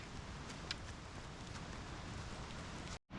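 Steady rain patters through wet Australian bush in New South Wales, a dense even hiss with scattered drop taps and a little wind, cutting out abruptly near the end.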